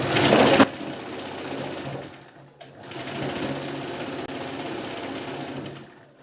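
Sewing machine stitching along the folded edge of a princess-cut blouse, a loud close whir that cuts off after half a second, followed by quieter steady machine running and mechanical hum.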